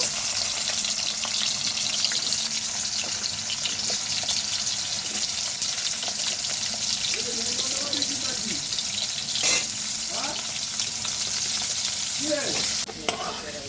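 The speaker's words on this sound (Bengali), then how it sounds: "এবার আমি গরম তেলের মধ্যে আলু দিয়ে দিলাম, আলুটাকে ভেজে তুলে নেব।" Potatoes frying in hot oil give a continuous loud sizzle, with occasional clinks and stirring scrapes over the crackle.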